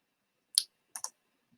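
Mouse clicks in a quiet room: one sharp single click, then a quick pair of clicks a moment later, close and crisp with silence around them.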